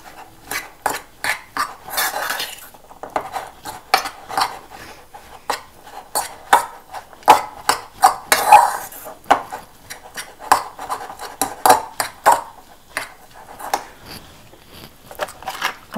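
Tuna salad being mixed in a bowl, a steady series of close scraping, tapping strokes of a utensil against the bowl in an uneven rhythm, with no talk.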